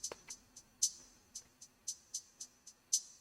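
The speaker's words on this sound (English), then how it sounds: "Then we have some hi-hats." Quiet programmed hi-hats in a beat, a string of about ten short ticking hits at shifting velocities, some brighter and louder than others, bouncing in an uneven groove over near silence.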